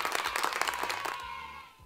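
Children clap in a short burst of rapid, fairly faint applause that ends abruptly, leaving a lingering tone as it fades out.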